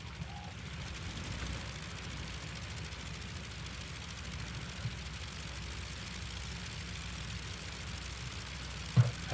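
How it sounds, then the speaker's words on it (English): The engines of a Fokker F VII aircraft in Flight Simulator 2020 run at a steady low drone, heard from outside, with a faint constant rumble and a brief bump near the end. "let's go outside and let's enjoy the sound of the engines"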